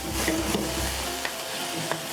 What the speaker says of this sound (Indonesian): Aneka bumbu dipotong halus dan dilebur dalam wajan panas.